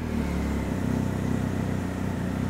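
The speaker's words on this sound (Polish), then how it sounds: "będziecie mogli również usłyszeć, jak pracuje silnik" A 2023 BMW R1250 GS Adventure motorcycle engine idles close by, a steady low throbbing rumble with a regular pulsing beat and no voices.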